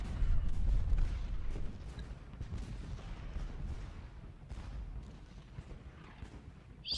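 Massed musket and artillery fire from Union and Confederate troops in the Civil War strategy game Ultimate General: Gettysburg, a dense, continuous rumble of distant volleys and booms that is heaviest at the start and rolls on steadily throughout.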